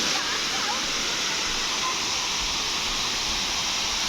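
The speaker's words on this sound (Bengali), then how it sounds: "সেই বড় ঘাগড়া ওয়াটারফল" Bara Ghagra waterfall roars loud and steady at close range, a continuous broadband rush of falling water with no pauses.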